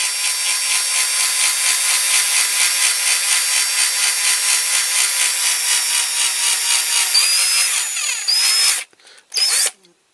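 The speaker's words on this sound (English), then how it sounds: "I do drill very slowly, so the drill bit don't heat up" A drill bores slowly into the metal body of a Dinky Toys Cunningham C-5R model car being restored, a loud, steady, close whine that runs continuously before cutting out and briefly restarting near the end.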